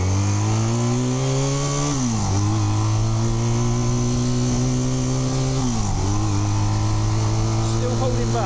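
Motorcycle engine after a top-end rebuild, revving on a test ride: the pitch climbs steadily, drops sharply at a shift, climbs again, then drops once more, loud and close throughout.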